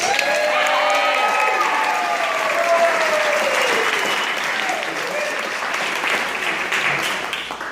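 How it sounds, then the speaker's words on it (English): Wedding reception guests applaud in a dense, steady wash of clapping that fills the whole stretch, with some voices and cheering mixed into the crowd noise. "Let's give them a round of applause."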